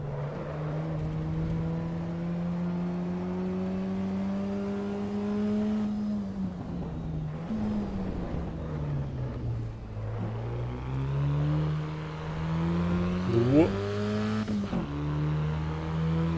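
Race car engine in the Assetto Corsa EVO racing game, a sustained tonal drone that dips and climbs through gear changes and revs, with a brief sharp rise near the end and no talk.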